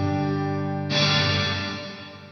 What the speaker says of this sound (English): that now is going to give me a reverb.